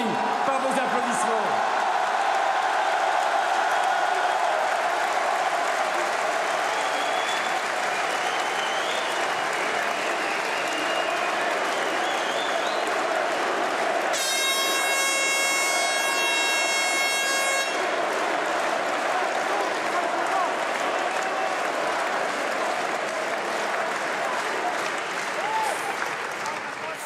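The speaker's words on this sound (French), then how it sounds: "ils entendent vos chants et ils sont étourdis par vos applaudissements" A large crowd at the first rally of a French presidential campaign fills the hall with continuous loud applause and cheering for nearly half a minute, with a bright horn blaring for a few seconds midway.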